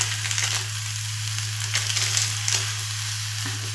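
A potato and wheat-flour snack mixture fried and stirred in a wok, giving a constant dense sizzle with faint scraping strokes and a low steady hum beneath.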